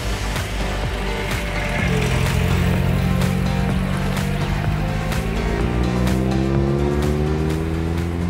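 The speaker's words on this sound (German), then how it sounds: "Autos aus einer längst vergangenen Zeit." A vintage classic car drives past at the Südtirol Classic 2018 rally in South Tyrol, its engine droning near and fairly loud with pitch climbing steadily, alone without talk.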